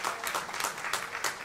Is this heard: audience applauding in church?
yes